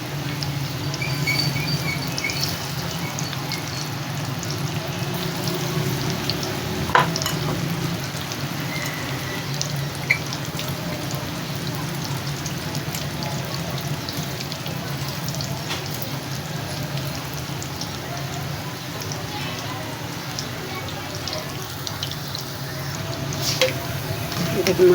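Potato finger fries cook in hot oil in a kadai, a continuous close crackling patter of bubbling oil with a few faint knocks, while a voice speaks over it.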